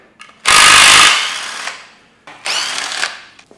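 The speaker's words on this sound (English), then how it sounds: "I've got a whole row of 10mm bolts that I need to whack out." A power tool whirs in two loud bursts with a short pause between, working 10mm bolts out of a 2012 Vauxhall Combo 1.3 CDTI engine, close up and alone with no talk.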